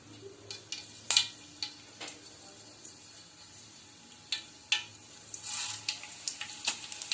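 Mustard seeds and cumin popping and crackling in hot oil for a dill leaf stir-fry, scattered sharp pops over a soft sizzle, close and fairly quiet, no talk.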